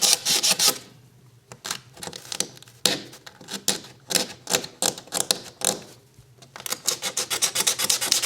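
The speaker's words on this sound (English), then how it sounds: "I like to try to scrape it off a little bit, just so that it's a little cleaner" Residue is scraped off a wooden brace while building a Mya-Moe instrument, with close, rasping strokes repeating in quick rhythmic runs and short pauses between passes, and no talk.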